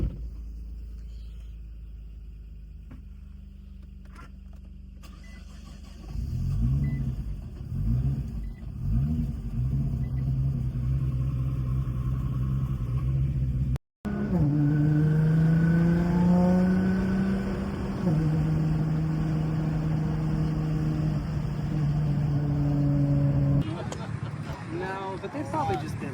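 Cars idling and revving at a Richmond Cars and Coffee meet, a low steady engine rumble broken by rising, throaty revs, fairly close, with people talking nearby.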